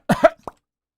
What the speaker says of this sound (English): I coughed on it, and it popped like a balloon.